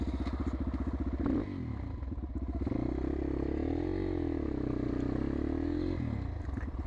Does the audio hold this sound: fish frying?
no